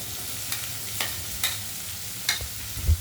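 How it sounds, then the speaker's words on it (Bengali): Chopped onion, ginger, garlic and green chili frying in a pan, with a steady sizzle under several sharp scrapes of a spatula stirring, close and clear, no talking. "আদা রসুনের পর চলে যাচ্ছে পেঁয়াজ কুচি। এগুলো ভালো করে ভেজে নেবে।"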